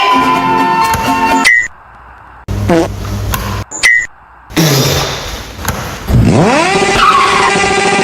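Tires screech in several loud skids, broken by brief gaps and a thump, then a long rising squeal as the car slides away.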